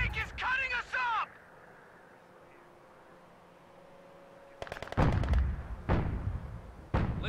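Tank and artillery fire in Company of Heroes 2 opens after a brief voice and a quiet stretch, with a handful of loud, booming shots and blasts landing close together near the end.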